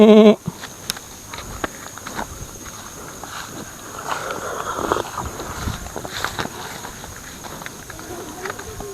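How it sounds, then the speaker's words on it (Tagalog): Goats bleat a few times at moderate distance amid outdoor background noise, with some footsteps and a brief loud burst at the start. "Yan, me kambing oh."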